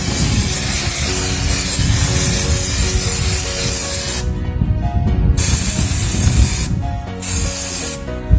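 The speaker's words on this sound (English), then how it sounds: "For that, we are going to use some kind of brake cleaner or the throttle body cleaner." Brake cleaner sprayed onto a car's rear drum brakes: loud, close aerosol hissing in long continuous bursts with short pauses between them and rattling, clattering handling noise underneath.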